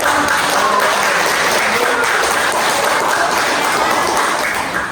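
A classroom group bursts into loud, sustained applause for group 3, many hands clapping in a thick, even wash that holds steady and fades slightly at the end.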